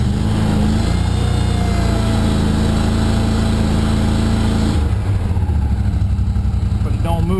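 A Steiner 430 tractor engine idles with a loud, steady, close mid-pitched chug that continues throughout, its tone shifting slightly about two thirds of the way in.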